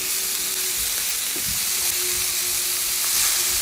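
Food sizzling in a frying pan just after being flipped, a steady close hiss with a brief clink of a utensil, no talking.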